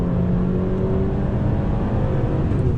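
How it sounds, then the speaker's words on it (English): Engine of a 2020 Mercedes-Benz E450 coupe pulling under throttle in automatic mode, a steady loud low drone with a rising whir heard from inside the cabin, continuous and unbroken with no talk. "let's go ahead and see how she handles on throttle"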